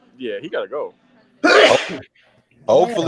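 One loud, sharp sneeze bursts out between stretches of casual conversation during a basketball talk show, with people speaking before and after it.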